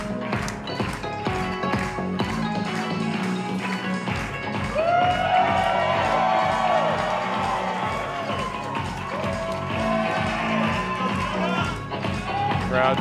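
A wrestling crowd at a women's singles match between Raychell Rose and Jungle Kyona cheers and shouts continuously, with rhythmic clapping or tapping pulsing through the roar.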